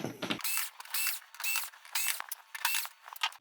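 Screws are backed out of a board inside a Sony KDL-46EX640 LED TV, giving a close, quiet run of ratcheting screwdriver clicks in short irregular bursts.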